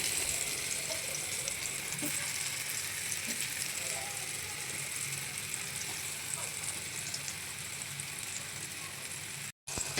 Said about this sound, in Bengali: আমি এখানে এই মশলায় মাখানো পটলগুলো একটা একটা করে ছেড়ে দিচ্ছি